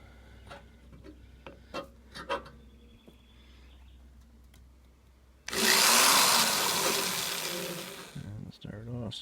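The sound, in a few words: power drill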